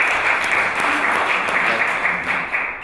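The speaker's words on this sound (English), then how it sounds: "Let's give him a round of applause for the effort." Sustained crowd applause fills the room in a dense, steady wash of clapping at a sales-training event, loud and continuous throughout with no clear talk over it.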